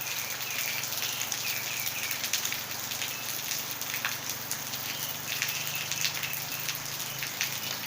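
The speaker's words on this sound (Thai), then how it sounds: "แรงนี้ฝนตกจริง" Heavy rain pours down steadily on Ko Krathing island, a dense, constant hiss that lasts the whole stretch without a break.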